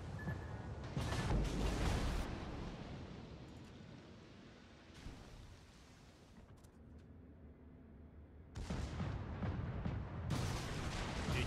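Battleship guns fire in a naval video game: deep booming blasts with a rumbling tail, a cluster early and another heavy volley later, separated by a quieter low-rumbling stretch.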